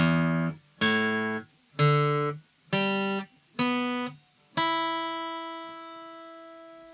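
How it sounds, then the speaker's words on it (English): Six guitar strings in standard tuning sound one at a time from the low E up to the high E, each a clear plucked note left to ring briefly, the last one sustaining and slowly fading, with no talking. "that's just me playing from the thickest string to the thinnest"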